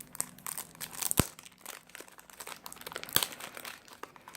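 Crinkling and rustling of packaging being opened around a small 30 ml Zara Zen Garden perfume, close and fairly quiet, with sharp crumpling bursts near the start and middle.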